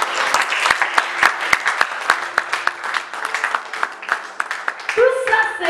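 Church congregation clapping in dense, sustained applause that rises and falls for several seconds, with scattered sharper claps and a voice breaking in near the end.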